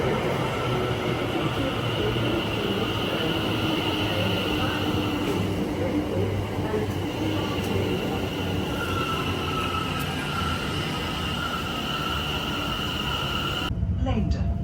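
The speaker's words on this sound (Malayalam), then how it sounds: "ഇനി ട്രെയിൻ വരാൻ വേണ്ടിയുള്ള വെയിറ്റിംഗ്." A train on the line to Fenchurch Street rumbles steadily with a constant low mechanical drone and faint wheel hiss, while people talk nearby.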